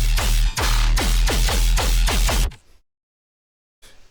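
Heavily distorted tearout bass synth built in Serum 2, loud and aggressive, hammering out about eight rapid, evenly spaced hits with a deep sub underneath, then cutting to near silence before a faint tail returns.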